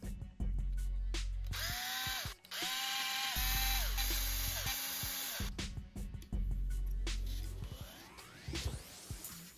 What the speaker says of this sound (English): Next, we'll remove 5 screws to take off the battery cover.